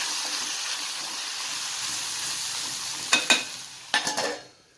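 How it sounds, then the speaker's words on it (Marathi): Sambar masala is stirred into a tomato mixture sizzling in a pan. A steady frying hiss runs throughout, with two clusters of close scraping stirs near the end before the sound fades. "ह्यात आपण एवढं सांबर मसाला घालणार आहोत आणि ह्याला असं मस्तपैकी हलवून झाकून ठेवायचं"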